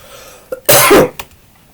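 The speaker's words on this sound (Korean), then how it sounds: "기침이 이렇게 자주 나네요." A single harsh cough from a lecturer giving a talk on religion, close and loud, preceded and followed by faint breathy throat sounds.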